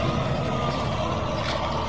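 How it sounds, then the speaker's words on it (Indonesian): A garbage truck rumbles nearby with a steady, dense engine drone and broad mechanical noise that continues without a break, fairly loud and close. "kalau yang ini truk sampah teman-teman"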